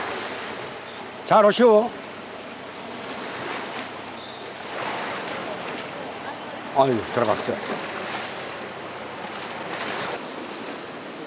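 Sea waves washing against the rocky shore of a coastal village in Namhae, South Korea, a steady rushing surf with wind, while people talk briefly close by.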